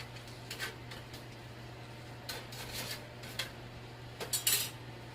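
Spaghetti tossed in a pan with utensils, heard as faint, scattered clinks and scrapes of metal against the pan, the last ones a little louder.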